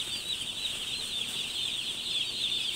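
Backyard farm chicks kept warm under a brooder chirp continuously in a dense, high-pitched chorus, a steady, fairly close wash of peeping with no talking.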